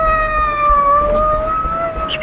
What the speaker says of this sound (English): It's a police car. It's going that way, toward the Lansing house.